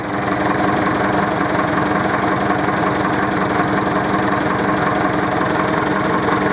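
A JCB 3D backhoe loader's diesel engine runs steadily up close, a loud, even idle with a fast knocking pulse and no breaks.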